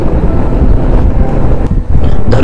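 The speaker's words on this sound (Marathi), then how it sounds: "वारा एवढा जबरदस्त आहे" Strong coastal wind buffets the microphone during a motorbike ride on the sandy road from Pamban toward Dhanushkodi, a loud continuous roar with rumbling gusts and no talk.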